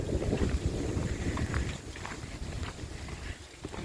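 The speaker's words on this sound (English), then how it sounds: "The wind feels good." Wind gusts outdoors buffet the microphone with a steady low rumble and rushing noise, swelling and easing over a few seconds with no voices.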